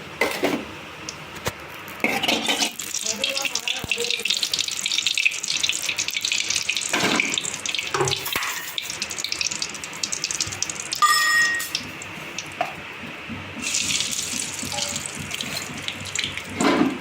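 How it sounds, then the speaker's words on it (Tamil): Mustard seeds and lentils frying in hot oil in a home kitchen while chickpea sundal is cooked, giving a steady close hiss and crackle with brief louder bursts and no talk. "கடுகு பருப்பு பொரியுது பாருங்கள்."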